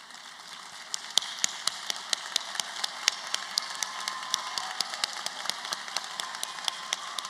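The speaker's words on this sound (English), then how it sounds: "Please stand so we may honor you with applause." Audience applause at a graduation ceremony: a sparse, distant patter of individual claps, steady and moderately faint, continuing throughout.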